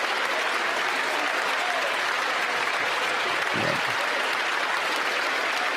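Applause from both sides of a parliament chamber after a federal budget vote passes, a dense, steady wash of clapping that fills the whole stretch at even loudness.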